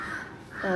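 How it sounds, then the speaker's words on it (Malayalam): A crow caws nearby, one hoarse call near the start and another rising at the end, fairly clear against a quiet background. "കാക്കയൊക്കെ കരയുന്നുണ്ട്"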